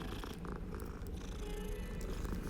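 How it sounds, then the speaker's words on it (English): A Siamese cat in the video game Hogwarts Legacy purrs in a close, continuous low rumble, steady throughout with no other sounds intruding. "It's a Siamese cat."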